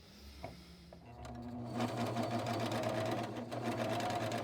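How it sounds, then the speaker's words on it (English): A Juki MO-80 CB freearm serger runs continuously at speed, stitching on air with nothing under the needle: a steady, loud mechanical whir and rapid clatter, close-up, with no voices. "It serges on air, so I don't have to worry about having something underneath the needle."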